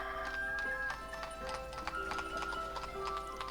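Horses clip-clop in the village-building game Ostriv, a steady patter of hooves and an occasional whinny over a soft, sustained tonal background.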